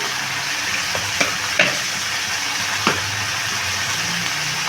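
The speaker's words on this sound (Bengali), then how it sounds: "এবার ভালো করে কষিয়ে নেব" Chili powder and coriander-cumin powder masala frying in oil for mutton curry, a steady hiss with a few soft clicks of a spoon against the pan.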